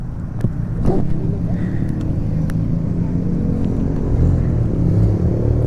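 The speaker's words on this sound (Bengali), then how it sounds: "গাড়ি ওদিকে ঘুরে দিতেছে" A car turns around on a road at night where police are sending vehicles back, its engine rumbling low and steady nearby while people talk over it.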